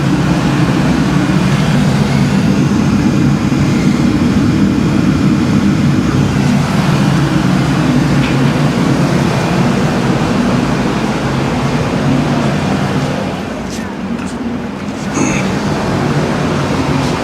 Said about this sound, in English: Having that blower up that freaking high heats this shop up too fast.